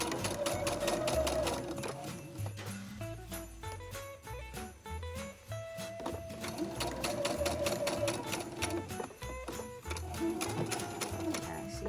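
A sewing machine stitching Christmas napkin fabric, bursts of rapid, close mechanical rattling that stop and restart for a pivot, with people talking over and between the runs.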